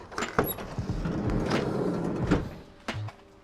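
The sliding side door of a Chevy Express camper van rolls and thuds against tires stowed inside, a scraping slide and a few dull knocks, then a final bump.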